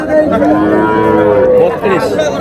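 Cattle at a large cow market low loudly and close by in a long, drawn-out moo with wavering pitch, over a busy crowd murmur in the background.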